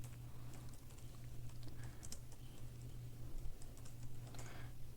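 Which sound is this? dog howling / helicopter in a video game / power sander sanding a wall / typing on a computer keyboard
typing on a computer keyboard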